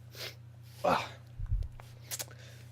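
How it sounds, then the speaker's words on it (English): A single sharp sneeze bursts out close by, followed by a brief snort-like exhale and a short sniff, over a low steady hum. "That's like the 3rd or 4th time I had to sneeze"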